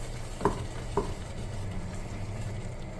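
Risotto is stirred in a pan over a low, constant sizzle, with two brief scraping knocks of the spoon near the start, then only the soft simmer.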